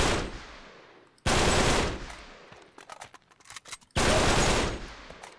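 Powerful gunfire from Uncharted 3: Drake's Deception in a desert setting, with two long, loud bursts of rapid shots separated by a scatter of quieter, sporadic cracks.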